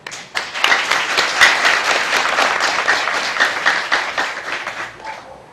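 Applause from a gathered group at a school tree-planting ceremony, a steady patter of many hands clapping that runs close and fairly loud for several seconds before thinning out at the end.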